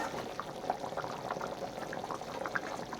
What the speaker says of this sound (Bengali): তরকারি আমার ফুটে গেছে